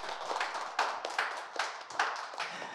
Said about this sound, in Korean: 지금까지 대답을 해주신 세 분께 박수 부탁드리겠습니다.